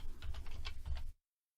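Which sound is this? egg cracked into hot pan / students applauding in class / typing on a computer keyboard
typing on a computer keyboard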